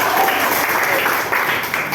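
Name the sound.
classroom applause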